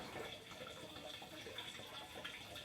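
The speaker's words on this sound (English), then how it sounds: "whilst we're waiting for the aqua roll to fill up" Water runs steadily from a tap at a campsite service point into an Aqua Roll container, a faint, even gushing and filling sound with no talk.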